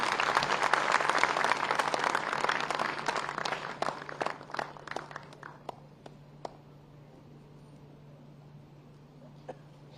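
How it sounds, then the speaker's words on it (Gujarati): Applause from an audience at Gandhinagar's 61st foundation day ceremony with the Chief Minister present, loud dense clapping that thins into a few scattered claps and fades to quiet. "ખૂબ બધી તાળીઓનો ગરગડાટ થઈ જાય"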